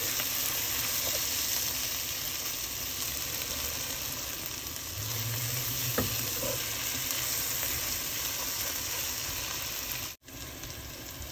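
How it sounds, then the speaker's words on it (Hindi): Chicken with meat masala fries in a pan as bhuna, heard as a steady, close sizzle broken by short scraping stirs, with no voices. "तो आप डाल के फ्राई कर लेंगे।"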